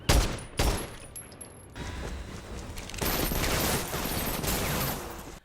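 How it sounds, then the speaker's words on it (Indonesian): Gunfire in a sniper action film, a few sharp shots early on followed by a denser, sustained burst of firing with broadband crackle, loud and with no talk over it. "berhasil dimenangkan oleh Kopral Mango dengan menembakkan beberapa peluru ke bagian dada musuhnya tersebut"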